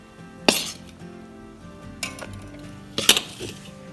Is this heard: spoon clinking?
yes